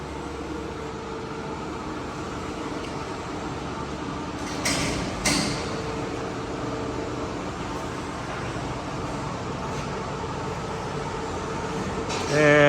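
Food tumble mixer (Alard Y5372) discharging its mixed product, a constant mechanical rumble and hum with a couple of brief scraping swells midway and a louder burst at the end.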